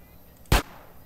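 A single sharp gunshot in GTA San Andreas, fired while shooting at bottles, lands as one brief loud crack against a quiet background.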